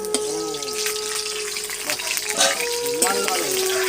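Potato pieces fry in hot oil in a pan for a vegetarian Kashmiri cabbage dish, a steady close-up sizzle with occasional stirring scrapes and faint tonal hums in the background.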